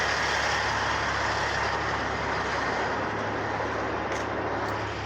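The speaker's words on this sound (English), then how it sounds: "It's a grain truck." A grain truck rumbles past, a steady broad engine and road roar that fades slightly toward the end, with no voices.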